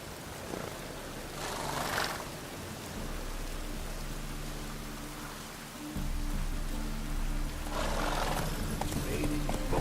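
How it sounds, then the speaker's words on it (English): Heavy rain pours in The Witcher 3: Wild Hunt, a dense steady hiss with a low rumble underneath and a horse's hoof or movement sounds, broken by brief swells of noise. "Raining buckets."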